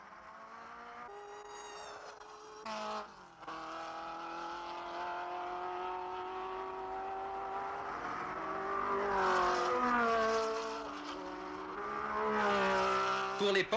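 Race cars at the Ford Chicane during the 1968 Le Mans race, engines droning with rising and falling pitch as they brake and accelerate through the corner, several cars passing loudly in close succession.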